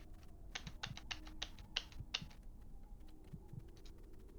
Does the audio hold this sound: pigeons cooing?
no